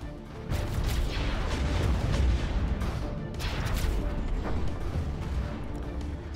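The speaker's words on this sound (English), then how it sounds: "I'm seeing lots more explosions on this side of the battle" Dense, rumbling booms and crackling blasts from a space battle in the video game Stellaris pile up continuously at a moderate distance, like a busy battle of repeated explosions.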